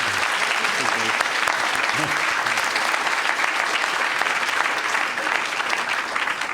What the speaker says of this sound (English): a round of applause for our panelists and for Riz